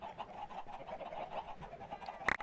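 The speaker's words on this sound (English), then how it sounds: "Man, those chickens are noisy." Faint, repeated clucking of chickens in Minecraft in a steady chattering rhythm, ending with a brief sharper burst of sound.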